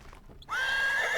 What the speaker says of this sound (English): Good thing horses are alert, at least.